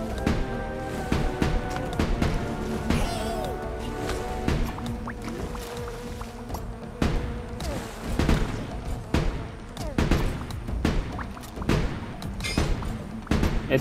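Cannons fire aboard a ship in the Ship of Fools video game, a rapid series of loud booming thuds and impacts over a busy backdrop of game effects and music.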